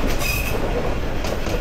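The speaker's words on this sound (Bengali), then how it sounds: "এই যে ট্রেন কার্ভ নিয়ে ঢুকছে, সামনে কিন্তু পার্বতীপুর জংশন" A commuter train rounds a long curve near Parbatipur Junction, its wheels squealing in a thin steady whine over a loud continuous rumble of rolling stock.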